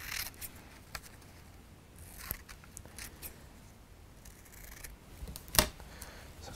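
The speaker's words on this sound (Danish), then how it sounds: "Så jeg klipper lige et billede ud af hende her damen her." Scissors snip a picture out of a magazine page, faint and intermittent with soft paper rustles and a few sharper clicks, recorded close in a quiet room.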